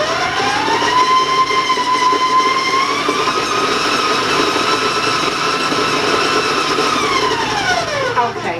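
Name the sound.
electric mixer creaming butter for cookies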